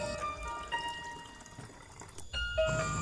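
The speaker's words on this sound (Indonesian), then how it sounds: "saya mengambil air secukupnya untuk merendam bawang putih tersebut" Water poured into a container to soak garlic cloves, a quiet, faint trickling and splashing heard alone for a few seconds with a slight clink near the end.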